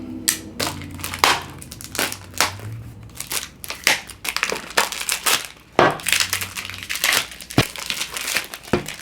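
Plastic wrapping crinkles and crunches loudly and close by as fragrance boxes are opened, in dense irregular bursts of crackling that run through the whole stretch with no voice.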